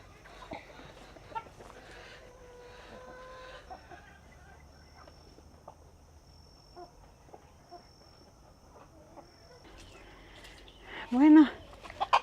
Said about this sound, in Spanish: Ellos comen ahí tranquilamente. Ve, qué hermoso gallina